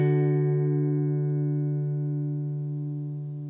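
An electric guitar run through a compressor pedal in an amp-less pedalboard setup lets one struck chord ring out alone, holding steady and loud with long sustain and fading only slowly.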